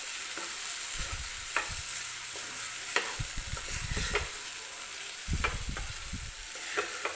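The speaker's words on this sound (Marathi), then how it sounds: "कैरी आपल्याला व्यवस्थित या मसाल्यांमध्ये मिक्स करून घ्यायची आहे।" Raw green mango mixed with spices in a pan for a rice dish, the spoon scraping and stirring in uneven bursts over a constant soft sizzle, close by and with no voices.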